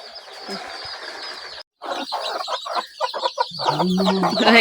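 Brooding hens on a chicken farm cluck steadily close by, a dense chorus of fowl calls broken by a brief pause, then louder clucking with a low throaty tone toward the end.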